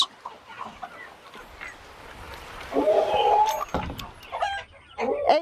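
Chickens cluck at a rural village home in Bangladesh just after a rain shower, giving a few close bursts of squawking calls between quieter stretches with faint background sounds.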